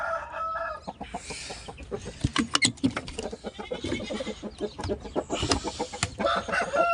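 A fighting rooster with a record of three wins in four bouts crows and clucks close by among other farm fowl, its sharp bursts and repeated clucks rising and falling loudly.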